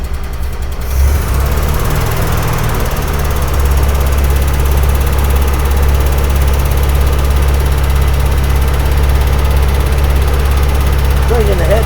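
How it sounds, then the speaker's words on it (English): A 1961 Ford Econoline engine runs steadily at close range, a loud continuous low rumble with a slight rise in pitch early on as it is revved, then holding at a raised, even drone. "See what happens when we rev it up."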